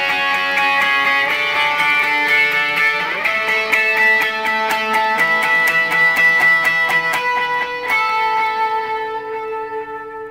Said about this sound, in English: the first intro part uses a TS9 overdrive pedal and a TC Electronics 2290 delay unit right here